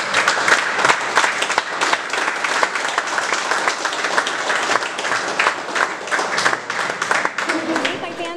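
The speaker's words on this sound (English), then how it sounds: "a round of applause I think for this team" A press conference audience applauds the team after a boxing match, a dense, steady burst of clapping from a crowd that stays loud for about eight seconds, with voices mixed faintly in the din.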